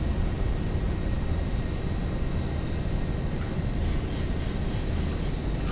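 Zibo Boeing 737-800 jet roaring through its takeoff roll and rotation in the X-Plane 11 flight simulator, a steady loud broadband engine rumble with no speech.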